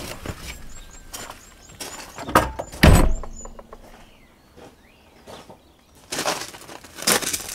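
A Land Rover Discovery 2 rear door is taken apart by hand, giving a string of clunks, knocks and plastic clicks with louder thumps near the start and end, close and uneven, with no talk.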